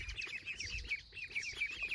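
Young wild ducks, about a month old, give rapid repeated high peeping calls, close and fairly faint, with soft rustling beneath.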